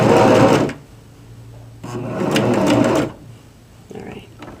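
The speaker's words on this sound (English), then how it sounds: "just make a little basting stitch to keep our self-facing in place" A sewing machine runs close and loud in two bursts, about one and two seconds long, stitching a basting line to hold a self-facing in place on a McCall's M7960 wrap skirt toile, with quieter handling and a voice in the pauses.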